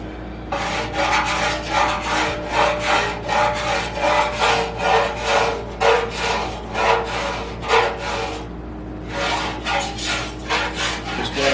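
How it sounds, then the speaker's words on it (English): A cheese-grater rasp file shaves body filler on a motorcycle tank or rear fender in steady, close, rhythmic rubbing strokes, about a dozen in a row with a short pause near the end. "hopefully I'm just gonna use what they call a cheese grater"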